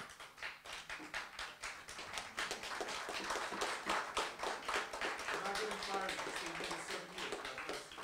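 An audience applauds in a hall, with rapid uneven claps forming a rolling wash that swells and dips for several seconds while a voice talks faintly underneath.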